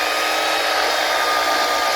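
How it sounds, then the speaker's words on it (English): Mixing a cup of sugar into ten egg whites for a from-scratch tres leches cake gives a loud, steady motor whir that runs unbroken and with no one talking. "Then you mix 1 cup of sugar with your 10 egg whites."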